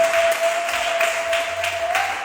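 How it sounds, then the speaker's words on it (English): Worshippers at a church service clap together in a steady, fairly loud rhythmic wash of many hands, with a sustained musical tone ringing underneath. "Clap another clap. I want to enjoy the clap."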